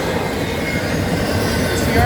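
CN freight train with ET44AC and ES44AC locomotives, including a CN 3248 and CN 2865, rumbling steadily past at close range as it slows down, with a constant dense roar of wheels and rail noise.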